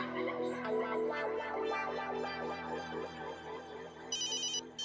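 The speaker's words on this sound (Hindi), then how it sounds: "तुम्हारा फोन बज रहा है।" A mobile phone ringtone plays a bright electronic melody, fairly loud and steady, ending with a burst of high chiming tones.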